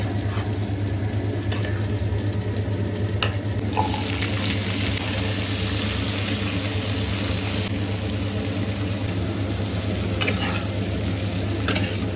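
Katki fish frying in a pan, with a steady, continuous sizzle at moderate loudness throughout and occasional clinks of utensils, no talk.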